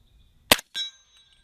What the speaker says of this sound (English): We're going to shoot it out of two different guns